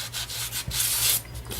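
A Stampin' Up sanding block rubs back and forth along the edges of a cork board in quick, close, scratchy strokes, with no talking.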